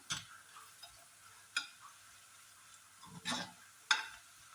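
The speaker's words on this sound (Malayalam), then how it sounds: "ഇതിലേക്ക് നമ്മൾ ഈ കുടപ്പുളി ഒന്ന് ഇട്ടിട്ട് ഒന്ന് ഇളക്കി കൊടുക്കണം" Kudampuli is stirred into a bitter gourd pickle mixture in a pan, giving faint, sparse scrapes and light clicks of a spoon, a few distinct strokes spaced over a quiet background.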